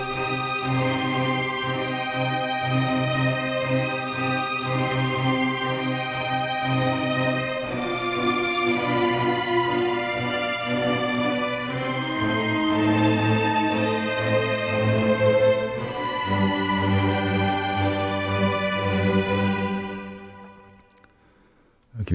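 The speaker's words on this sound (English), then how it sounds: "let's hear our chord in the strings" A sustained sampled orchestral string chord from EastWest Hollywood Orchestrator, held for about twenty seconds, full and steady, shifting voicing a few times before fading out near the end.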